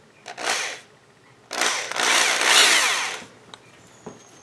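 Power drill boring a rivet hole in an oilfield clutch lining, two bursts of high whining drilling, a short one then a longer grinding stretch, close and loud, followed by faint clicks.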